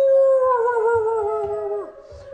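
Children imitate a dog with one long, wavering, falling howl, sung as a single sustained voice that trails off at the end.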